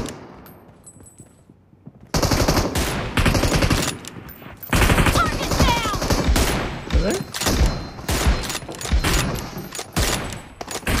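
An M249 machine gun in PUBG Mobile fires repeated loud bursts of rapid automatic shots, close and almost continuous after a quiet opening.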